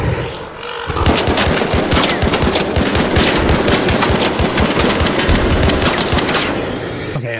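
Sustained rapid automatic gunfire aimed at a gas tank in the video game Arc Raiders, loud and close, a dense unbroken stream of shots lasting several seconds.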